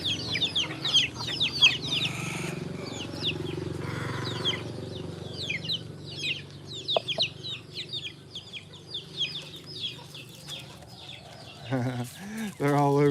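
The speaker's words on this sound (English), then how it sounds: "A lot of chickens." Many chickens roam a village lane in a Philippine province, their clucks and short calls coming in repeated bursts at middle distance, with outdoor bustle and occasional voices around them.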